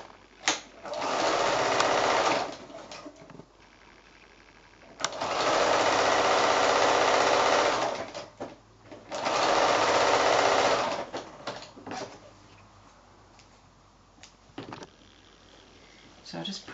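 A sewing machine stitches sashing onto a quilt in three bursts of rapid, even chatter separated by quiet pauses, followed by a few short taps and handling noises.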